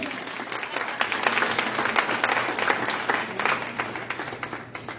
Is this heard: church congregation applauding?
yes